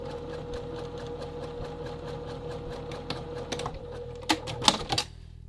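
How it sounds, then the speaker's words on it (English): A sewing machine stitches a seam on a men's classic vest, its needle chattering in a rapid, even mechanical rhythm up close, then slowing into a few separate clunks and clicks as it stops to pivot. "Right at the intersection of the seam, I'm going to drop the needle and I'm going to pivot to go down the other side."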